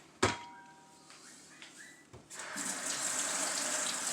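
Water runs from a tap into a sink while batter is washed off a utensil, starting with a few clunks and handling noises, then building into a steady close hiss of flowing water.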